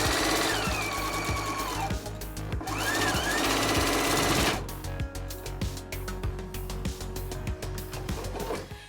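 A sewing machine stitches quilt block pieces in a steady, loud mechanical rhythm, its motor humming continuously, with a short pause before stitching resumes with rapid clicking needle strokes.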